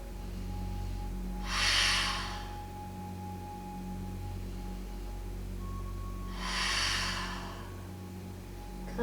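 Two deep yoga breaths during a hips-and-shoulders stretch, each a soft, airy rush of breath a few seconds apart, close and clear over a low steady room hum.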